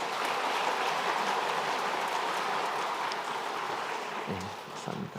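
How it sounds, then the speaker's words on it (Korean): A church congregation at Sunday worship claps together in a steady, dense round of applause with a rain-like texture, holding evenly before tapering off near the end. "우리 서로 수고했다고 앞으로 잘하자고 격려하며 한번 박수하겠습니다."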